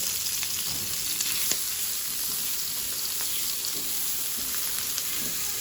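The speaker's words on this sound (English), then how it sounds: "And we will add the prawns." About 100 grams of prawns frying in a pan for a keto prawn Caesar salad, giving a steady, close, even sizzle with a few small pops and no talk.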